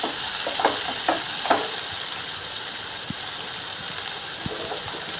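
Steady sizzling hiss of onions sautéing in a pan for prawn thokku, with a few soft clinks and scrapes of stirring scattered throughout.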